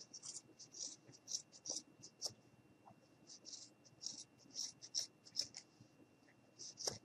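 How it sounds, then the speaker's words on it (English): Scissors snip through pom pom yarn in a rapid series of short, crisp cuts, close and fairly quiet, with soft handling rustle between them. "now I'm going to take my scissors"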